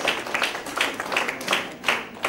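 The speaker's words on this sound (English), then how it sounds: "So give a round of applause for all of them" Audience round of applause at an inauguration event for a research project: faint, patchy clapping from a small crowd, heard as uneven bursts of hand claps over a couple of seconds.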